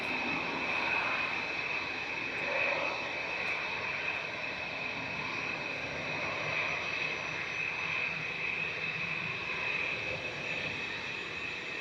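A Lufthansa airliner at Manchester Airport, bound for Munich, gives a steady, continuous jet engine whine and rumble at an even level throughout, heard alone without voices.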